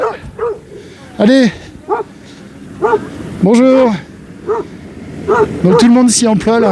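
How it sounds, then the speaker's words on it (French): At a snowed-in chalet on Mont Lozère, a dog barks in sharp, loud, repeated yaps and yips at a snow-clearing tractor, the barks coming in uneven bursts while people talk nearby. "Dès qu'il voit un tracteur, il aboie."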